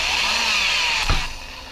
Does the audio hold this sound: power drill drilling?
yes